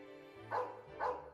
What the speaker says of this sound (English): our stupid neighbor's dog barks 24 7